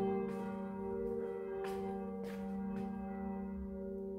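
A church bell rings close at hand in a church near Lourdes, a sustained tolling hum with faint repeated strikes over a steady drone, and no voices.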